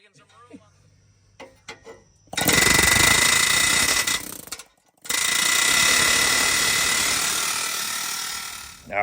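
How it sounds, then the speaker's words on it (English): An air hammer pounds in a home garage at night while working on an LS-swapped 4x4 Cadillac, loud continuous rattling bursts after a few seconds of quiet, with a brief pause before a second long run. "Got an air hammer out here."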